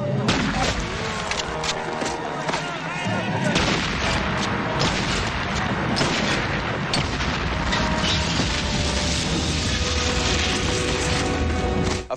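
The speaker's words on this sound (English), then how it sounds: "A fight breaks out on a chain gang, shots are fired, and two of the convicts escape in that scene from the new movie Fled." Gunfire crackles through a chain gang escape scene in the 1996 film Fled, with repeated sharp shots and booms over a dense, loud action soundtrack of music and scuffling.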